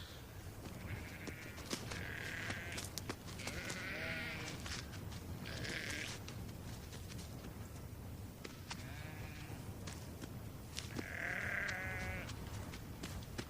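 Karakul sheep in an arid desert landscape bleat repeatedly, several distinct calls spaced out over the span, some nearer and louder, against a low background rumble with no talking.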